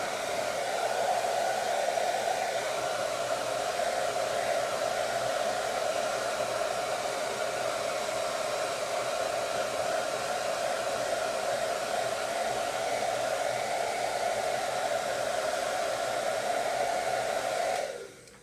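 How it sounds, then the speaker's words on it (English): A hair dryer blows steadily with a constant whooshing hum, close and loud, running without pause before cutting off at the very end. "Take the blow dryer."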